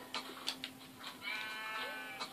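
Animal bleating and lowing from cows in the video game Minecraft, several short calls spread over a couple of seconds with a longer drawn-out call in the middle, fairly quiet and heard without talk.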